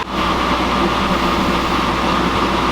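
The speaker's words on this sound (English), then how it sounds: "I'm sure you can hear the forge warming up in the background" A blacksmith's forge warming up while heating metal for an oil warmer, giving a steady, loud roaring rumble that holds constant throughout with no talking.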